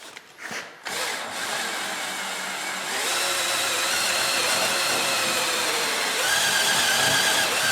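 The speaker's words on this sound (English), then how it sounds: "I have a stripe eraser tool on the drill that you can get at your local auto parts store." A drill spinning a rubber stripe eraser disc against a 2014 Jeep Compass Trailhawk gives a loud, steady, abrasive whirring and rubbing noise that runs continuously after a brief choppy start.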